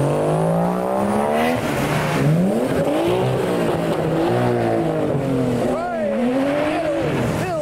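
Toyota 1JZ engine in a Crown revving loudly at a car meet, rising and falling pitch sweeps repeating close by, with other car noise and chatter around it.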